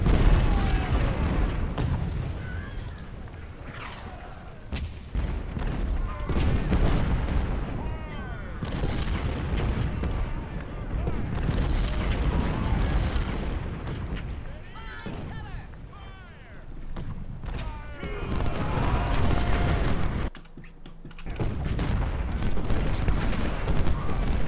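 Cannon and musket fire roll on continuously in Ultimate General: Civil War, loud booming artillery mixed with crackling volleys of gunfire across a Civil War battle at Mansfield, with a voice talking over the din.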